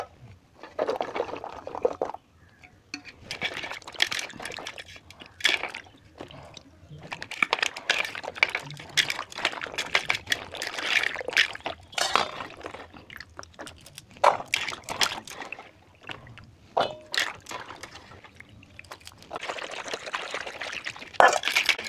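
Dimiri fruit are washed by hand in water, with irregular splashes, sloshing and pouring in uneven bursts, close up and moderately quiet, over about twenty seconds.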